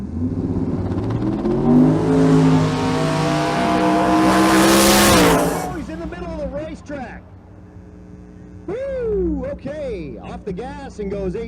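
A New Edge Ford Mustang roars off the line at a drag strip, engine screaming loud and rising through the gears, then fading down the track while an announcer talks over the crowd noise.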